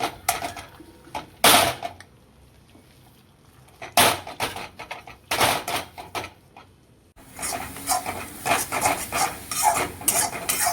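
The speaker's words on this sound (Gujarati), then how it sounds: "આપણે આવી રીતે મિક્સર જરીક કરી લેવાનો એટલે એકદમ માવો થઈ જશે" A cashew and mango mawa mixture stirred in a pan on a gas stove, with bursts of scraping spoon strokes against the metal separated by quieter pauses, then a denser stretch of stirring with faint sizzling.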